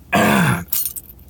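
A single harsh cough and throat clearing, loud and close, lasting about half a second, followed by a few faint, breathy rasps.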